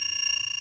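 A continuity tester buzzer sounds a steady, piercing high-pitched tone while checking a Braun hair dryer's wire, loud and close, then cuts off abruptly at the end.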